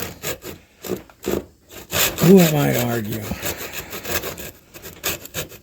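A hand saw rasps through mulberry wood for a carving hammer's handle, with steady back-and-forth strokes and a brief squeal. Someone speaks at the end.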